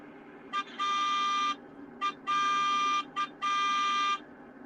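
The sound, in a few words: car horn from a train video game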